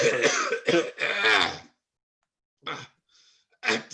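A person clears their throat and coughs a few times in short bursts, with brief quiet pauses between them.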